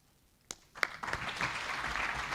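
After a panel discussion at a Kenyan investment learning event, an audience breaks into applause: a few scattered claps first, then steady, moderate clapping that builds and holds, heard from some distance.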